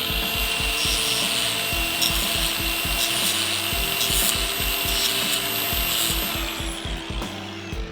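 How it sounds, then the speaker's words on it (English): Rhythmic rasping strokes of a file or abrasive rounding over the freshly cut end of a rubber car wash hose, close and steady with a broad hiss throughout and repeated low scraping pulses, no voices. "put a little radius on that hose, just round that over a little bit"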